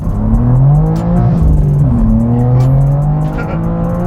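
A BMW with an S58 engine running ethanol flex fuel accelerates hard, its loud engine climbing through rising revs with gear shifts and a brief tire scrabble, close and without speech.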